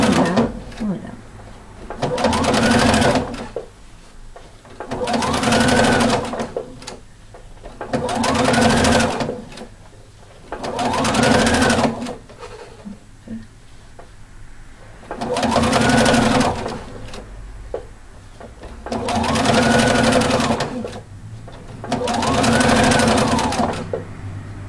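A sewing machine stitches baby bibs in repeated whirring runs of a few seconds each, loud and close, separated by brief pauses.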